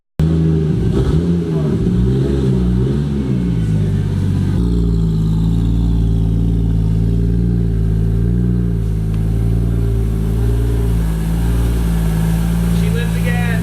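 A car engine running steadily and loudly up close just after being repaired, a continuous deep drone with a slight shift in tone partway through; no clear talking.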